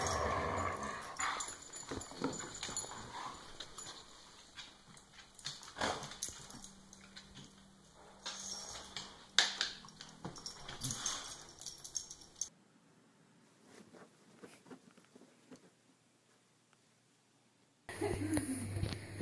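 A dog whimpers and makes small vocal noises amid household sounds, with some rustling and jangling, fairly close and moderately loud, before a quiet stretch and an abrupt cut.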